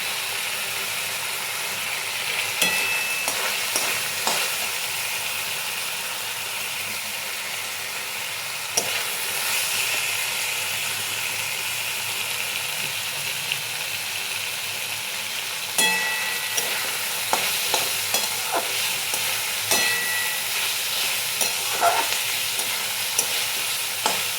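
Cashews, peanuts and vegetables frying in a pan for sooji upma, a continuous bright sizzle with occasional scraping stirs and clinks spread across the stretch, no one speaking.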